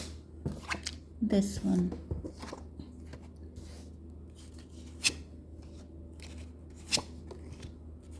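Tarot cards are shuffled in a few quick riffles and rustles at close range, followed by occasional soft taps as cards are set down, beneath quiet speech.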